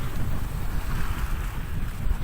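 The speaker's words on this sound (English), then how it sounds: "over the last day and a half that we've been sailing like this, we're slowly drifting westward" A sailboat runs under wind offshore on a passage from Kenya toward South Africa, a dense, loud rush of wind and water with no distinct events and no talk.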